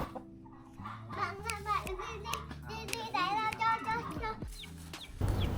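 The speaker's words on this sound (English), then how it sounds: "These are the fighting rooster of Uncle Phu" Fighting roosters crow in the Vietnamese countryside, several drawn-out calls rising and falling at moderate distance, mixed with children's voices and clucking in the background.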